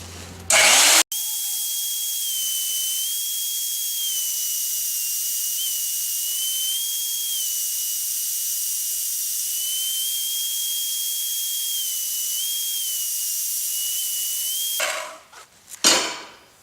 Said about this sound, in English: We'll have to grind on it a little bit